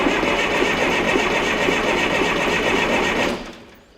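A Ford starter motor fitted to an FE35 tractor with a 23C engine cranks the engine in one loud, steady whirring run for about three seconds before cutting off abruptly.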